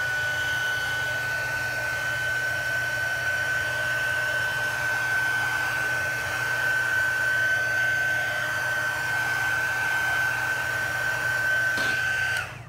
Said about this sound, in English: I use a combination of heat gun and a torch